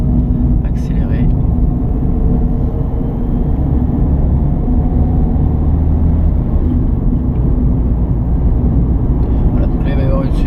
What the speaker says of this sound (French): Je vais pouvoir accélérer.